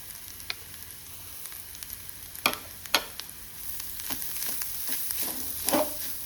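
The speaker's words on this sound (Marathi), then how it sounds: "आतां आमी सोय घेतल्या ती भाजून घेता" Grated coconut roasting in a pan for a Konkani konge sukha dish, giving a soft continuous sizzle with scattered scraping stirs that grow a bit busier toward the end, close by and with no talking.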